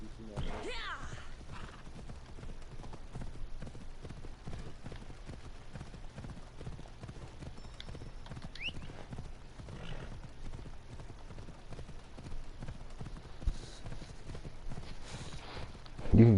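Steady hoof clip-clops of a walking horse in a PS4 video game continue throughout at moderate volume, with occasional faint voices and a louder thump at the very end.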